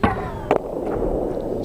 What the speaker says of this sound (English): as you see here, the break-off shot again from Mark Selby.